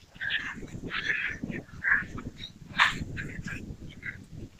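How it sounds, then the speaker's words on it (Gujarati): Dogs at a farm give a few scattered barks and yelps over about four seconds, fairly close and moderately loud over steady outdoor background noise. "અને આમ જો તો કૂતરા આવી ગયા."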